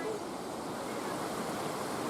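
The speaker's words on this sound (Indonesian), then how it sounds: "sehingga gemercik suara air menimbulkan ketenangan dan mampu melepas penat hiruk-pikuk perkotaan" A river flowing past a cafe set in a forest, giving a soft, continuous rushing and babbling of water, fairly faint and even throughout.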